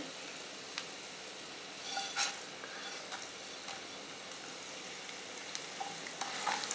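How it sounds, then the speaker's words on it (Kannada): Peanuts and chana dal frying in hot oil: a steady, soft crackling sizzle with small pops and occasional stirring scrapes, with no voices. "ಕಡಲೆ ಬೀಜ ಸ್ವಲ್ಪ ಫ್ರೈ ಆದಮೇಲೆ ಒಂದು ಸ್ಪೂನ್ ಕಡಲೆಬೇಳೆ ಹಾಕ್ತೀನಿ"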